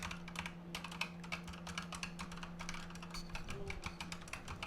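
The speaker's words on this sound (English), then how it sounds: "This keyboard here has the Razer optical switches, and I'll do this little sound test if the mic can capture this." Rapid bursts of keystrokes on a lightweight Razer keyboard with optical switches, close and fairly quiet, a fast uneven patter of crisp clicks over a low steady hum.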